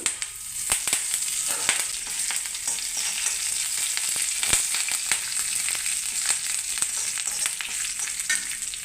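Mustard seeds, urad dal and curry leaves frying in a couple of spoons of oil for raw mango pachi pulusu, a loud, dense crackle with sharp popping spatters scattered through the sizzle.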